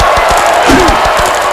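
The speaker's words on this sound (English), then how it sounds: "And the crowd on their feet." A wrestling video game crowd cheers loudly and continuously in an ECW-style match, with repeated dull thumps from the action cutting through the roar.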